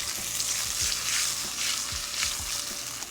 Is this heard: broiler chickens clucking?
no